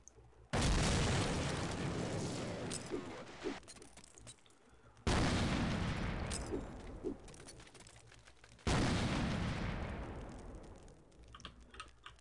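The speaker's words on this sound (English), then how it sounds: "Wait, can I throw a grenade in here?" Three heavy grenade blasts in the video game Half-Life 2, spaced about four seconds apart, each a loud booming burst that rolls off slowly, with faint keyboard clicks underneath.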